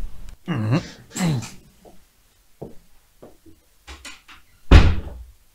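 A door is pushed shut and closes with a solid thud near the end, after a run of scattered knocks, shuffles and short creaks, all close by in a quiet room.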